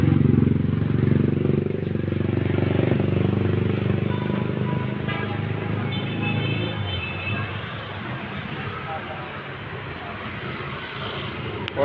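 Motorcycle engine running during a test, a close, steady loud drone that settles slightly lower partway through, with people talking over it.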